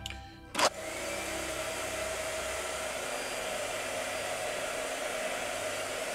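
A blow dryer clicks on and then runs with a loud, steady, continuous whoosh for several seconds, close by and with no talking.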